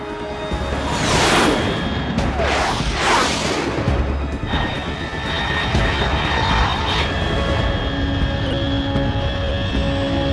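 A fast jet aircraft in the video game Metal Gear Solid 3 roars overhead, with loud sweeping whooshes and booming rumble rising and falling across a dense, continuous wall of noise.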